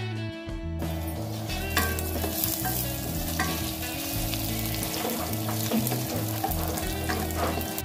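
Coriander seeds, cumin, urad dal and curry leaves sizzle and crackle steadily in hot oil while being stirred, a dense, continuous frying hiss close up with occasional scraping of the spoon and no talking.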